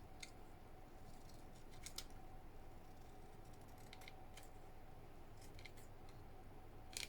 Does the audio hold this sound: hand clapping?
no